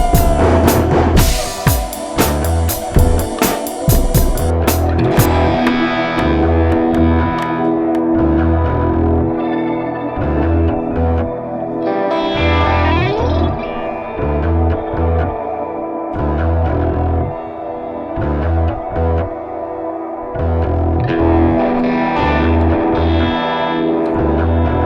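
Electric guitar run through a BOSS GT-1000 with reverse delay looping into reverb produces a swelling, oscillating feedback wash that keeps sustaining and echoing even after the delay is switched off, dense and distorted throughout.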